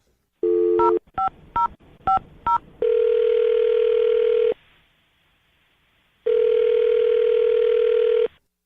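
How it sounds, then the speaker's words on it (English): A telephone being dialed: a rapid run of keypad tones followed by two long ringing tones separated by a pause, loud and close with no talking. "we're going to dial her number right now"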